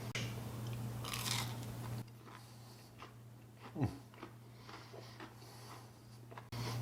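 Crunchy bite into a crispy, warm fried zucchini spear dipped in ranch, one sharp crackling crunch standing out over a steady electrical hum, with faint chewing around it.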